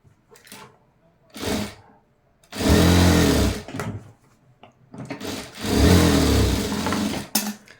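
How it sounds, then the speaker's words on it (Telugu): Sewing machine stitching a seam on a size 38 blouse, running in two long loud bursts with short starts and pauses between, no talking. "సో దీనిపైన ఇంకొక కుట్టు అనేది వేసేసుకుందాము."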